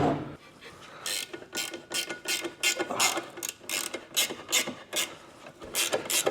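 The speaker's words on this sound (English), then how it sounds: "So I'm just going to grab a 13mm ratchet spanner" A 13mm ratchet spanner working Subaru rear suspension bolts, with steady rapid pawl clicking in repeated close, loud strokes throughout, each burst of ratcheting followed by a brief pause.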